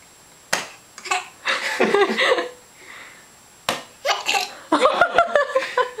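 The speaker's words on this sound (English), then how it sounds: "Whoa, you got the hiccups?" Several short, abrupt hiccup-like bursts scattered through the clip, loud and close, mixed with brief voiced gulps and clicks.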